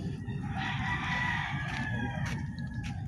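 A rooster crows and chickens cluck at a wildlife park in the Philippines (Ninoy Aquino Parks and Wildlife Center), heard at moderate distance over a steady outdoor murmur with brief louder calls.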